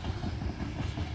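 A manifest freight train led by an SD60E locomotive rumbles past, with a steady, loud low roar of rolling cars and no voices.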